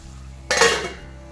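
A metal lid is set down on a pot of ridge gourd egg curry: one close clatter that rings briefly and fades within half a second, against a low steady hum.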